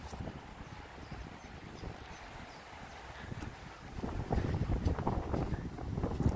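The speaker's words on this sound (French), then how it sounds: "il y a du vent aujourd'hui" Wind buffeting a phone microphone outdoors, a rough low rumble and gusty thumps throughout that grow louder and harsher in the last couple of seconds.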